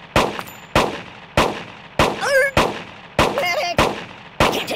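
Repeated single gunshots from a shooting video game, about eight sharp reports spaced roughly every half second, loud and close, with brief electronic chirps and pings sounding between some of the shots.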